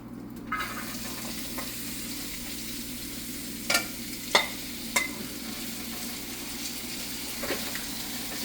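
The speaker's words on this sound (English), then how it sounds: "And now we're going to put in our onion and some carrots." Onions and carrots fry in oil in a pan for Chinese fried rice, giving a steady, moderate sizzling hiss broken by a few sharp utensil clicks and scrapes, with no talking.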